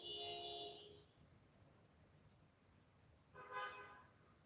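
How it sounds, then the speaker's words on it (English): Two car horns honk in the distance, one long blare at the start and a second short toot a few seconds later, faint over quiet street background. "Cars honking."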